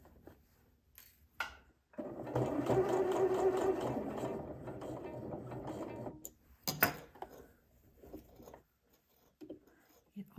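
A sewing machine stitches fabric for a Billie dress in a steady close whir of about four seconds, with brief handling noises and quiet moments around it.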